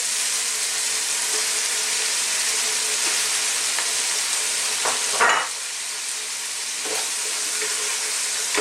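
Chicken pieces sizzle and fry in a pan for sinampalukang manok, a sour Filipino tamarind chicken soup, giving a steady loud hiss with brief stirring scrapes partway through; no one speaks.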